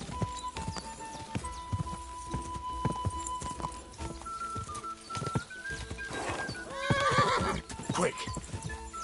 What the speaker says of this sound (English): Qué basura de caballo, tío.